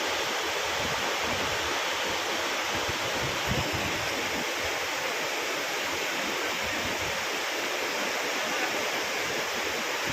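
A steady, dense roar of falling water, broadband and unbroken throughout, like a waterfall heard from close by.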